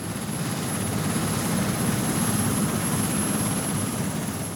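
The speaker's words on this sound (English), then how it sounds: "Using a magnetometer slung under a helicopter, Dr. Glenn Penfield was carrying out surveys of the Earth's magnetic field." A helicopter carrying a magnetometer slung beneath it flies steadily overhead, its rotor and engine making a continuous loud broadband drone throughout with no voices present.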